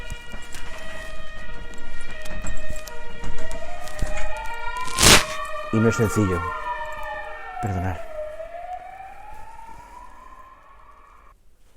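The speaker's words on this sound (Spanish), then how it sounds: "Hay una ambulancia aquí." A wailing siren sweeps up and down, rising and fading as the vehicle passes, with a person speaking briefly over it.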